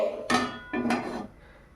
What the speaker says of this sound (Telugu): స్టవ్ మీద గిన్నె పెట్టుకొని